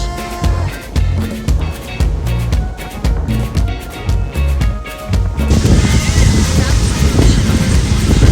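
Steady wind roars across the microphone at the seashore at night on Bantayan Island, Cebu, with a rhythmic pulsing layer underneath that gives way to broad, rushing gusts in the second half.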